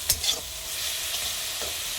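Cauliflower pieces sautéed with Kashmiri chili powder in a pan, heard as a close, steady sizzle with scraping stir strokes and a couple of sharper spatula clatters at the start.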